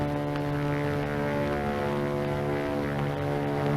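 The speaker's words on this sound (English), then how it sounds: "It's a plane, all right." A propeller airplane flies overhead, a steady droning engine hum with strong even harmonics, sustained and fairly loud with no voices.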